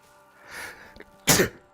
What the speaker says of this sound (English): That's a big sneeze.